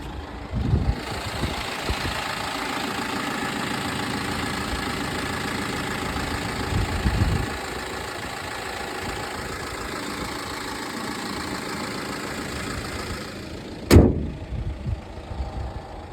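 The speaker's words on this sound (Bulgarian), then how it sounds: "двигателя работи доста добре" A BMW 116d diesel engine idles steadily with an even, low rumble and a slight knock, continuous and close, ending in a sharp click or bump.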